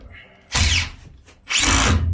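Power drill driving screws during an interior window install in a converted school bus, two short loud bursts of whirring, close up.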